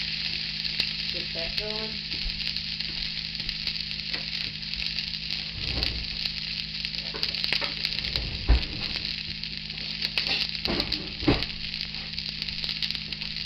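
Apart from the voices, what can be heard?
onions sauteing in melted butter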